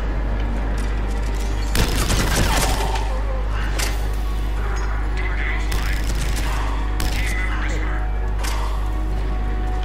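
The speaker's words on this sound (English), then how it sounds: "Getting shot at, guys." Gunfire pops and bangs around the player in a Mass Effect 3 multiplayer match on the Firebase Giant map, with bursts of shots over a constant low hum and players chatting throughout.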